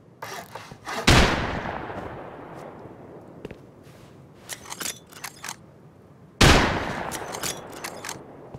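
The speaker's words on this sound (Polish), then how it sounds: "daje ta amunicja wybuchowa" Explosive ammunition fires in the survival video game Rust: two heavy booming blasts about five seconds apart, each with a long decaying rumble, and scattered sharp clicks and crackles between them.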